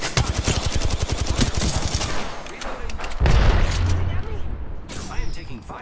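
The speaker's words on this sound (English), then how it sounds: "I am taking fire, friends." Rapid automatic gunfire from the Apex Legends video game rattles in dense bursts for the first few seconds, followed by a heavy boom and further shots, all loud and close.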